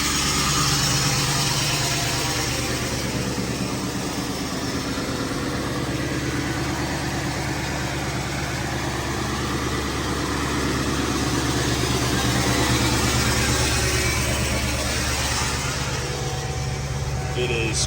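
A Ford E350 van's 7.3 Powerstroke diesel engine idles after a cold start, a steady, loud, rumbling clatter that holds unchanged throughout.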